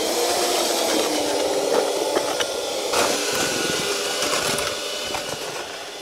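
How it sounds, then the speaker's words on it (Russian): An electric paddle mixer whirs steadily as it churns mortar in a tub, a constant grinding drone with scraping rubs, close and unbroken throughout. "И очень удобно миксером подмолаживать, чтобы не молотить его лопатой."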